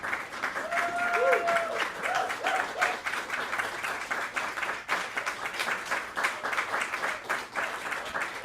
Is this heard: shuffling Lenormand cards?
no